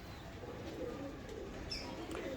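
Soft, low cooing from rare Sialkoti-breed pigeons murmurs steadily through the clip, with a faint bird chirp or two above it and no talking.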